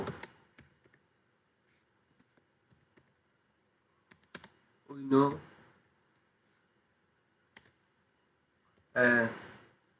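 Computer keyboard keys tapped while typing HTML code, heard as scattered, close key clicks at an irregular pace, broken by two short bursts of speech.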